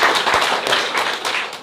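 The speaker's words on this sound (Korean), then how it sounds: "자, 그러면 박수 더 크게 한번 칠까요?" Audience members clap at a scholarship foundation's second-anniversary supporters' meeting, a short burst of loud, close claps with distinct individual hits and taps.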